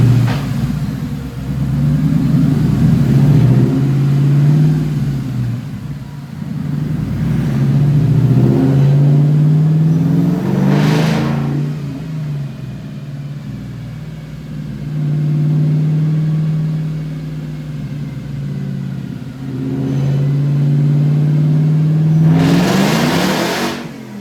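Coyote-swapped Ford F100 pickup on a dyno, its V8 revving up through repeated loud pulls, dropping back between runs, a heavy constant roar close by.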